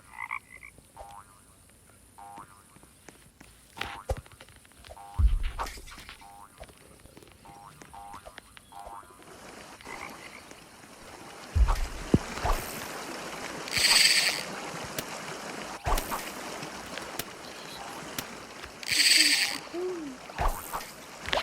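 Frogs croak in repeated bursts amid scattered splashes and clatter in the video game 99 Nights in the Forest, with a voice speaking at times in the background.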